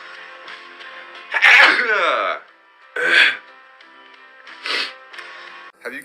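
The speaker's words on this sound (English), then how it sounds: "The fog's making me sneeze." A man sneezes repeatedly from allergies, several sharp explosive bursts spaced a second or two apart, close and loud, with bits of voice between them.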